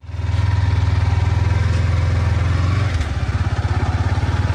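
A modified Yamaha R15 with a hydraulic clutch lever runs close by with a loud, steady pulsing thrum, dipping briefly near the three-second mark as the throttle shifts before the rhythmic beat resumes.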